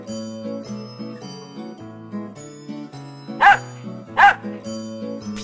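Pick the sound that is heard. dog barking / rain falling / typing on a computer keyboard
dog barking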